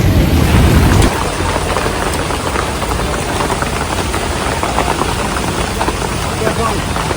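Steady, dense rain pours down nearby, a continuous hiss with a louder rumbling patch at the start.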